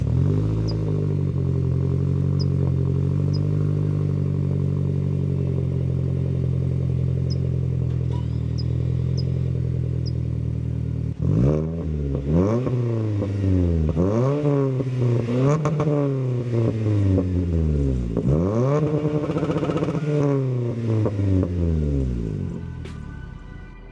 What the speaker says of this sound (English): let's go ahead and get you guys a quick clip of that exhaust with the resonator delete